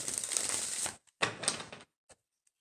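A deck of tarot cards is shuffled in two quick riffling bursts, close and fairly faint, followed by a couple of soft taps as the cards settle.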